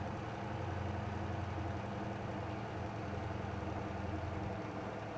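A truck engine in the MotorTown game pulls steadily in second gear, a dense, continuous low drone that holds level for several seconds with no voices over it.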